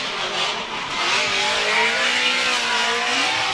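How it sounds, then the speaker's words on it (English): Drift cars battle at a Formula Drift round in Miami, including a Chevrolet Camaro on Hankook tires, their engines roaring loud and steady at high revs with rising pitch sweeps and tire squeal. "These battered and bruised cars are going at it again for the one more time as McCory is out front."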